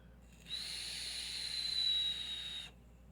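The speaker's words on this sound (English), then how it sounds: "Wow, it whistles. It whistles hard." A thin, steady high-pitched whistle of air drawn through the nearly closed airflow of a Smok Fortis vape tank, lasting about two seconds, close and fairly quiet.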